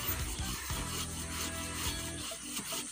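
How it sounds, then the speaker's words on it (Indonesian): A Samurai pruning saw cuts through a tree stump while a garden is being cleared, giving a loud, continuous rasping of the blade through wood with strokes running into one another. "Jangan lupa motongnya pakai gergaji samurai"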